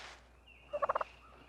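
A wild turkey gobbler gobbles once, a rapid rattling burst of four or five quick notes, clear and fairly close over quiet background.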